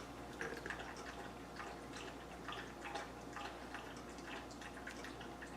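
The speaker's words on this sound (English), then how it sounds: "My dog is getting a drink of water." A dog lapping water from a bowl on a hot day, a soft, steady run of small wet laps and drips at close range, quiet against low room hum, with no talk.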